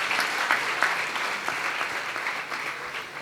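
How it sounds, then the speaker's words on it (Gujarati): Audience applause at a temple gathering in Vadtal during a 200-year festival, steady crowd clapping filling the whole span at moderate distance, sustained without pause. "આપણે સૌ કોઈ તાળી વગાડીને આભાર માનીએ"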